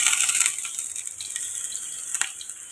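Garlic ginger paste hitting beef frying in hot oil for a white degi beef pulao, a bright, hissing sizzle that flares loudly at first, then settles into a steady crackle with a brief sharp spike near the end.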